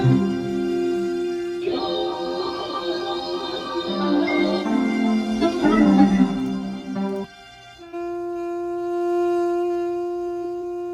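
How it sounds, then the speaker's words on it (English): A trumpet sample sits layered in a beat with other instruments, sustained tonal notes over a busy mix that thins out toward the end, leaving a held horn-like tone. "So next I added this trumpet, which sounds like this layered in with everything else."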